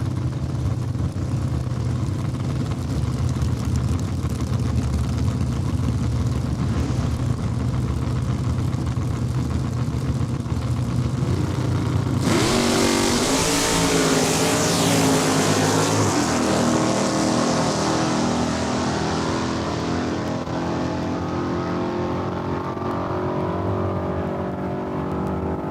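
Drag racing at Saskatchewan International Raceway: cars including a purple Mustang idle loudly on the line, then one launches with a sudden, blasting engine roar that fades as it tears off down the strip.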